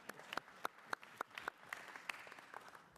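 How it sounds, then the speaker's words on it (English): Sparse, scattered clapping in a congressional hearing room for a witness panel on state taxation, a handful of sharp distinct claps spaced out over a few seconds, fairly faint. "I think that we should give them applause"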